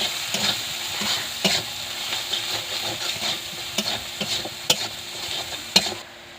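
Spices with salt and turmeric fry in a hot pan, a continuous sizzle broken by repeated scraping stirs of a spoon against the pan. No one speaks.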